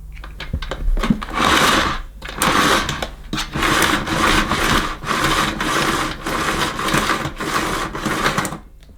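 A vintage Miele S240i cylinder vacuum cleaner runs with a loud, rough, buzzing drone that surges and dips in repeated pulses, close by, before cutting out at the end.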